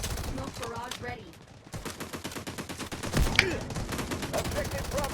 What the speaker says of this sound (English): Artillery barrage ready. Smoke barrage ready.